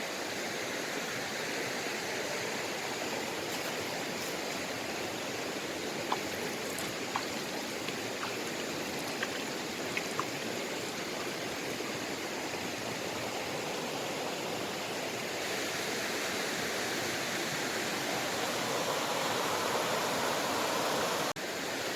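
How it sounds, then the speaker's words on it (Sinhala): River water at Kalu Diya rushes over rocks in a continuous, even roar that stays steady and moderately loud from start to finish, with no voices. "වතුර ගල් වල වැදිලා ලස්සනට මේ පහළට ගලන්නේ මේ ගල් වලින් තමයි."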